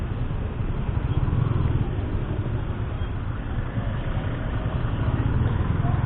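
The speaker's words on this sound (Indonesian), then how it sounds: "pakai DB killer yang versi ini, output suaranya tuh adem gitu ya, jadi kayak knalpot standar suaranya" A motorcycle fitted with a racing exhaust and a dB killer idles in a steady, low, muffled rumble, as soft as a stock exhaust, close by and continuous throughout.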